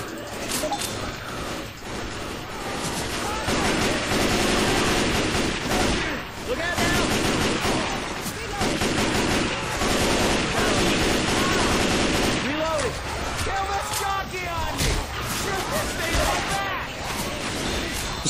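Dense gunfire from Left 4 Dead 2's Dead Center campaign, with rapid automatic bursts and single shots packed together through most of the stretch. Players talk over the near-constant shooting.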